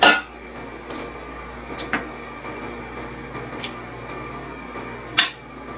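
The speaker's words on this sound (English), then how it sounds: "Now I will add half of the tomatoes." Chopped tomatoes dropped into a simmering pot of Georgian ajapsandali with peppers and herbs, giving a few soft splats and knocks spaced apart, plus a utensil clink near the end, over a low kitchen hum.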